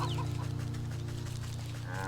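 Chickens cluck steadily over a constant droning hum, with a few higher bird-like chirps scattered throughout, in the video game Wytchwood.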